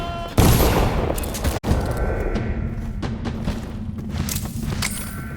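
Gunfire crackles in Dishonored: The Knife of Dunwall, a loud opening burst followed by a sharp shot and a scatter of further shots and thuds, with no talk.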